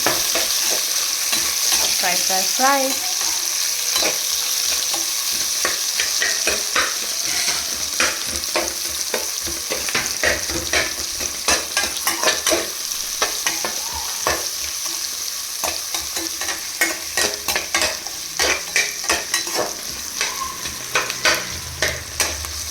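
Chopped onions sizzling and frying in a pan for veg hakka noodles, a steady loud hiss with repeated sharp scraping clicks of a spatula stirring, no talking.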